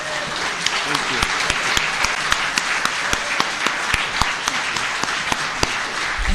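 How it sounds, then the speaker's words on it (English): An audience claps for both candidates at the end of a ward candidates' Q&A meeting, a sustained round of applause with sharp individual claps standing out and some voices underneath. "please give a round of applause for both candidates"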